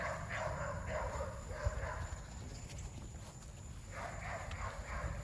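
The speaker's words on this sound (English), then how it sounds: "Somebody drove down the road and our dogs were going crazy." Several dogs barking repeatedly at a car driving down a rural road in Texas, a few short bursts at a moderate distance over outdoor background noise, with no talking.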